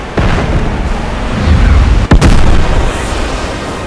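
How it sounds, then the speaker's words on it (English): A loud, close explosion in Final Fantasy VII Remake, heard as a dense roaring blast with a sharp crack midway, then sustained rumbling debris noise. "That was a hell of an explosion"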